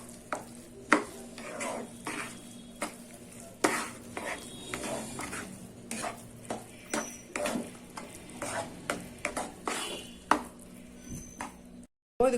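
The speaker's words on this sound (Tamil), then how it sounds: "இந்த வேக வச்ச பாசி பருப்பு போட்டுடலாம். நல்லா கலந்து விட்டுடலாம்" Cooked moong dal is stirred into pongal in a pan, with repeated sharp spoon knocks and scrapes against the metal in an irregular rhythm over a faint background hum, close by.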